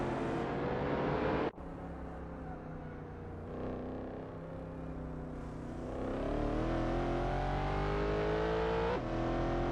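AI-controlled hypercars racing at Tor Poznan in a racing video game, a loud continuous engine roar with a sharp cut at a gear shift, then pitch climbing steadily under acceleration.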